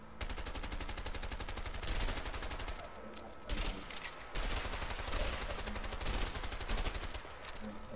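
Rapid bursts of gunfire aimed at a house in the video game A Way Out, with loud, dense, sustained shooting across the whole stretch and short gaps between volleys.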